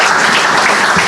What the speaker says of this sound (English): let's give them all a round of applause for the honor today